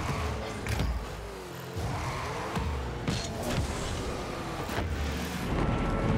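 Cars in the Rocket League video game, heard as continuous loud game audio with a whirring engine drone and repeated sharp hits and whooshes throughout.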